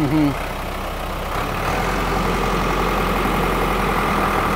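An orchard pruner's powered saw runs with a steady, loud mechanical drone, preceded by a brief voice at the start.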